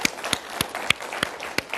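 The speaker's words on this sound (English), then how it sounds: "How about another round of applause for our three presenters today?" Sparse applause from an audience at a health and life sciences executive forum, individual claps landing in an irregular, fairly close patter over a short stretch.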